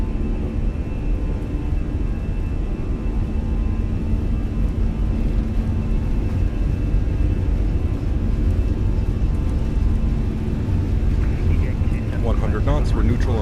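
Airliner jet engines spooling at takeoff power in the Fenix airliner in Microsoft Flight Simulator, a loud steady roar and whine that holds throughout.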